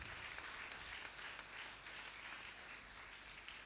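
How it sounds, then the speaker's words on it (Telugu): Steady applause from an audience honoring a choir after its singing, a dense continuous patter of clapping at moderate distance with no voices on top, holding evenly throughout. "గాయక బృంద సభ్యులందరినీ అభినందిస్తూ ఒకసారి గట్టిగా చప్పట్లు కొడదాం."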